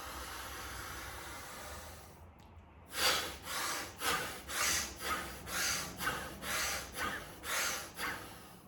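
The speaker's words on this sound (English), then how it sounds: "Breathing fully and deeply all the way in." Bellows breath (bhastrika) exercise: a slow hissing inhale, a short pause, then about ten rapid forceful breaths pumping in a steady, even rhythm, close and loud.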